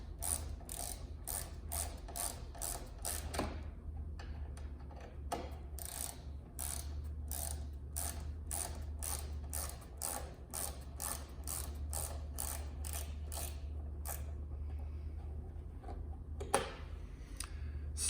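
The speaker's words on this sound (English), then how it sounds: "Okay, I'm gonna remove the screws now." A ratchet clicks steadily and close while backing screws out of a Jeep Gladiator Rubicon sunshade, with rapid pawl ticks in long runs and brief pauses between them.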